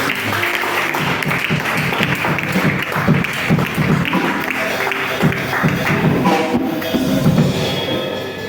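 A church congregation claps and cheers in praise of the Lord, with steady rhythmic applause layered over music and crowd voices, sustained throughout.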